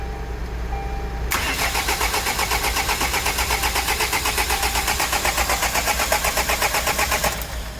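A car engine cranks with a rapid rhythmic whirring from the starter, running steadily for several seconds before cutting off, loud and close.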